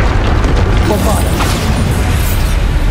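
A Bombarda blasting spell explosion in the video game Hogwarts Legacy, a loud, deep boom with a rumbling burst that fills the short moment at close range.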